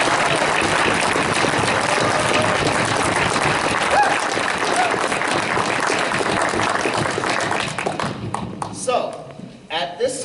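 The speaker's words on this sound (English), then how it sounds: "we'd like to give you, the kids, one more round of applause for an amazing work." Theater audience applauding the child cast after a children's stage performance of Johnny Appleseed, loud sustained clapping from a large crowd that thins out near the end as voices begin to come through.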